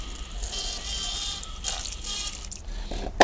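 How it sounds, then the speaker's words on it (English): Water from an outdoor garden tap splashes steadily onto a tumble dryer filter to soak it, a continuous close hiss of running and spattering water with no voices. "So outside at the garden tap, ooh, let's just give it a soaking first."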